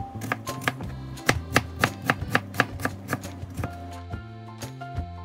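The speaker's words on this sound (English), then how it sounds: "let's see, boom, like a knife through an onion" A sharpened kitchen knife chops through an onion on a cutting board, a steady series of close, crisp thuds and taps, with a few quieter cuts trailing off toward the end.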